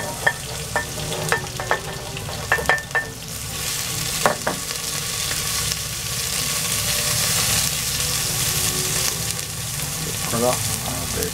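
Onions fry and sizzle in a pan for vegetable yakisoba, a steady close hiss broken by sharp clacks of a utensil stirring and scraping the pan.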